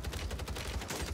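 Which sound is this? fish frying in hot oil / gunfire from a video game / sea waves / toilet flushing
gunfire from a video game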